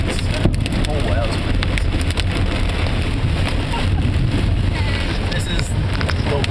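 Massive hailstorm in Palmyra, Indiana, pelting a car being driven through it, a loud, dense, unbroken roar of countless hits on the body and roof from start to finish.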